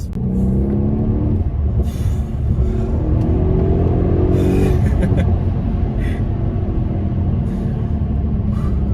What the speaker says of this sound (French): tu sens la machine du V8. Tu sens que les 5 litres 5 en train d'être brassés